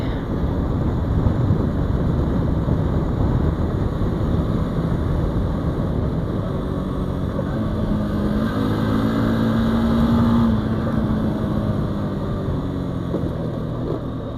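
A motorcycle rides steadily along a road, its engine droning at a constant near hum with rushing wind noise, the pitch rising briefly midway as it speeds up.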